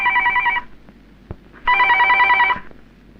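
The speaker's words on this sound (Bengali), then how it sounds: "এই দারগা, টেলিফোন বাজে শোনা পারস না?" A telephone bell rings in two close, loud bursts separated by a short pause, with quiet room noise between them and no talking.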